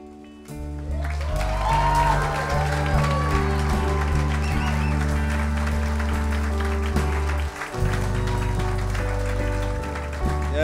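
A church congregation applauds after a baptism at an Easter Sunday service, sustained clapping filling the room over a steady bed of organ or band music, with a brief dip near the end before the applause resumes.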